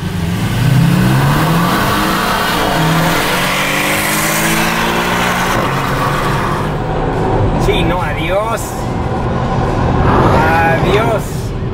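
A turbocharged Porsche Cayman S and a Cupra roar hard through a drag race, engines rising in pitch through gear changes, with excited voices talking over the run.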